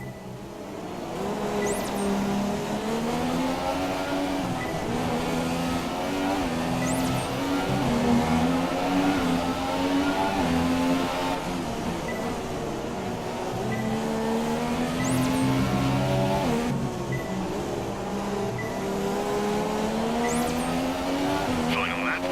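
A Formula 1 car engine in the F1 2017 racing game revs high and steady through a lap, its pitch rising and falling through corners with brief tire squeals.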